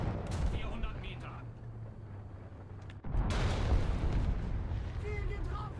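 A tank cannon shot striking its target in War Thunder: a deep boom with a rumbling explosive impact midway, preceded by engine drone and followed by sustained rumble, with a voice speaking German over it.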